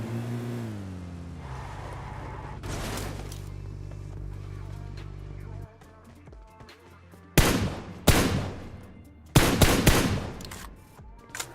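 Gunfire in a battle royale video game fight: a vehicle engine drones first, then several sharp bursts of automatic fire crack out in quick clusters, loud and close, with no talking.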